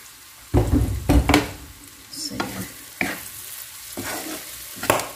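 Shrimp and pork frying in sunflower oil in a pan, with several bursts of sizzling and stirring scrapes, loud crackles rising and fading in irregular clusters, fat popping among them.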